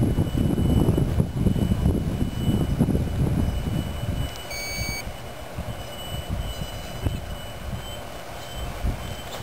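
An RC model airplane's propeller motor whirs during a test flight, loud and close at first, then fading as it moves off. Thin beeping tones sound partway through.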